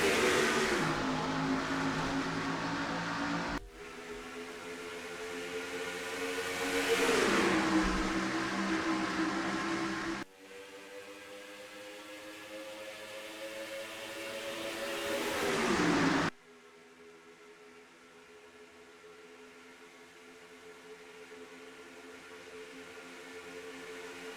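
Stock cars in a racing video game set at Talladega start a race, and their engines drone loud and continuous, rising and falling in pitch. Several abrupt cuts switch between different cars' engine tones.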